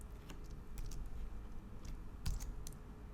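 Quiet, scattered taps and clicks from a computer keyboard and mouse at a desk in Photoshop, a few sharp presses spaced irregularly over low background hum.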